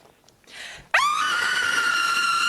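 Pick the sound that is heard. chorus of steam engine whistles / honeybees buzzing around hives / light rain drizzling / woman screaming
woman screaming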